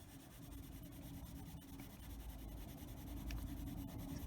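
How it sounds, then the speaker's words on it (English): A coloring pencil pressed hard on paper scratches and rubs in a continuous, quiet, close scraping texture that grows slightly stronger toward the end, with no talk. "But you can hear how hard I'm pushing on this with the pencil."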